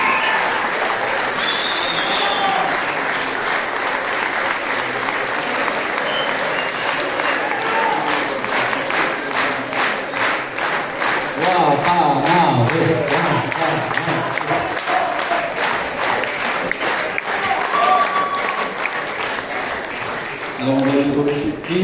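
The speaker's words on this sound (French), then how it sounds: "on remercie, applaudir aussi la Guyane" A crowd applauds at a closing ceremony, with sustained clapping that swells midway and carries on under and between voices making announcements in French.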